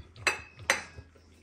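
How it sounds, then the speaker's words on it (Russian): A Caucasian shepherd's food plate being washed with detergent, heard as two sharp, close clinks of dishware about half a second apart, followed by a softer knock and quiet handling. "тарелочку помыть надо обязательно"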